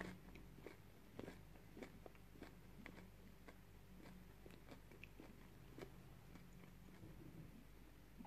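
Someone biting into a homemade chickpea falafel, a quiet close-up series of crisp crunches and chewing sounds repeating irregularly, with no speech.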